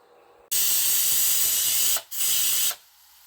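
A pressure cooker cooking turnip greens (shalgam saag) vents with loud, steady hissing bursts, one long blast, a short break, then a second shorter blast, before fading back to quiet background noise.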